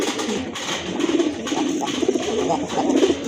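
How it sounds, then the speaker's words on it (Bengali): A pair of kagzi pigeons coos with soft, low, rolling calls, repeated close by over a continuous background murmur. "আরেক জোড়া কবুতর, এটা হচ্ছে কাগজি কবুতরের একটা জোড়া"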